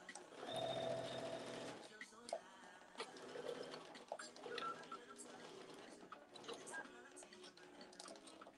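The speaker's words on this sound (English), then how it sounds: "Sewing my test for Grace's challenge." Sewing machine stitching a denim asymmetrical mini skirt, a close, continuous mechanical whir with a strong opening burst, then uneven stitching runs mixed with soft handling noises and quiet talk.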